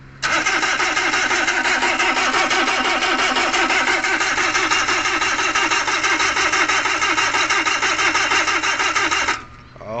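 Suzuki DA64V with a K6A non-turbo engine cranking without catching: a loud, steady starter whir with rhythmic chugging for about nine seconds, stopping abruptly, then a brief rise of noise.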